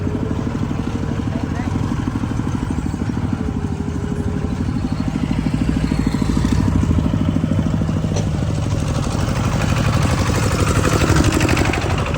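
A rice-harvester tractor engine runs steadily close by, a loud, throbbing low chug with a faint mechanical clatter that holds throughout.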